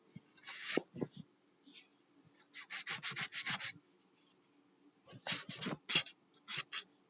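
A wooden walking cane being rounded with 80 grit sandpaper, with bursts of rapid back-and-forth scratchy rubbing in several runs and short pauses between them, close by and fairly loud, with faint talk in the quiet gaps.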